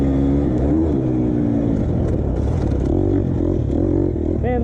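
A 2020 KTM 250 XCF dirt bike engine drones loudly while trail riding at Rivers Edge, steady throttle with small rises and dips and a sharp rev jump at the end.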